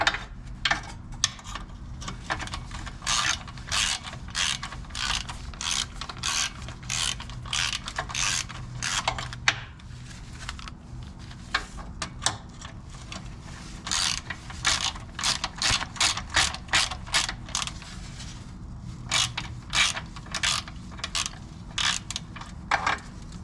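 Repeated ratchet clicks loosening transmission bracket bolts on a 2001 Miata six-speed, in fast bursts of pawl ticking with short pauses, close and clear with no talk.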